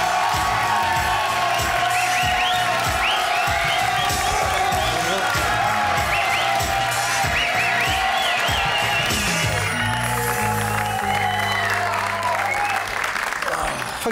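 Studio audience applause and cheering welcome a rapper onto a French TV talk show: loud, continuous clapping with whoops and shouts filling the whole stretch, a voice briefly rising over the crowd.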